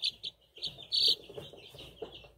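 Índio Gigante chicks give short, high, repeated peeping chirps close by, in quick irregular bursts with brief pauses and no talk.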